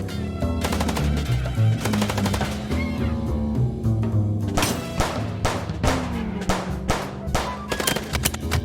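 Rapid bursts of automatic gunfire crack loudly over a driving musical score during a car chase in the video game Chicken Police, with dense volleys and sharp single shots through the second half.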